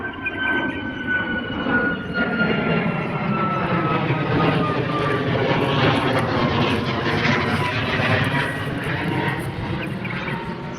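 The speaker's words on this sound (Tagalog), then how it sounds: "May aeroplano na naman." Airplane flying overhead at night in a park in Oman, a loud, steady engine roar with a slowly shifting whine that fills the whole stretch, no voices over it.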